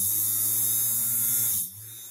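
Two solder fume extraction fans whir at full speed with a steady electric hum, then cut out abruptly near the end, leaving only a fainter background hiss.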